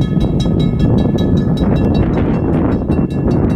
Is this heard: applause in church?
no